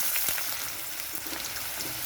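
Finely chopped potatoes with a dried red chilli and nigella seeds fry in hot mustard oil, giving a steady, close, hissing sizzle with a few crackling pops and no talk.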